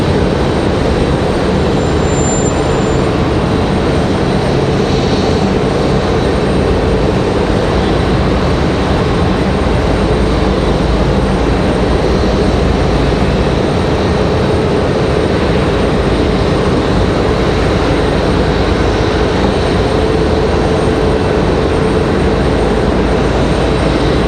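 An Airbus A321neo airliner descends toward landing at Raleigh-Durham International, a loud continuous engine roar holding steady and close throughout, with no voices.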